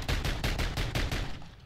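Rapid bursts of gunfire from the JAK Gunslinger in a first-person video game, about eight close, loud shots in quick regular rhythm, the last ones tailing off, with no talking.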